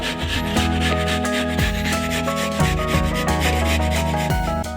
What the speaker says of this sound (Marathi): सालीपर्यंत भोपळा व्यवस्थित खिसून घेऊया